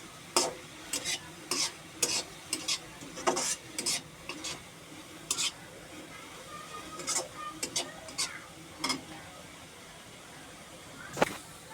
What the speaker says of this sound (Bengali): দুটা তেজপাতা এখন একটু হালকা নেড়ে নেবে